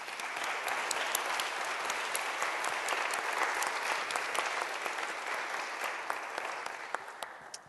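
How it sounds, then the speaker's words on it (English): A round of audience applause for panelists at a Congregation of Holy Cross gathering, steady and sustained clapping from a large crowd that carries evenly throughout and tapers slightly at the end. "I'd like us to offer one more collective round of applause to our panelists today."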